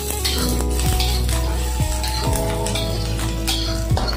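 Spice paste sizzling loudly as it is sautéed in a pan for a Malaysian Iban-style dish of river snails fried in spicy soy sauce, with the scrape of a utensil stirring through it repeatedly.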